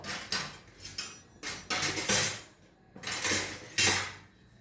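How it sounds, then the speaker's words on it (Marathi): A metal spoon stirs sugar syrup with ghee in a pot on the stove for Diwali sweets, giving repeated scraping, clinking strokes against the pot in irregular bursts, close and fairly loud, with no talking. "याला हलवू चमच्याने"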